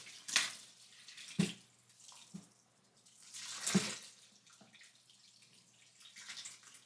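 Water is poured into a bonsai aquascape tank of rocks and plants in a few short splashing bursts separated by quiet gaps, close and fairly soft.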